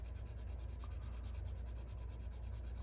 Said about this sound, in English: sand that line out of there, because it shouldn't be there.